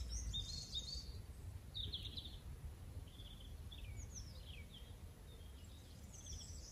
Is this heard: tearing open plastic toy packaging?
no